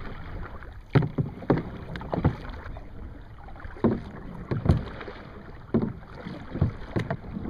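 Oars dip and pull through water from a rowboat in an irregular series of splashy strokes and knocks, close to the microphone, with light wind noise between the strokes.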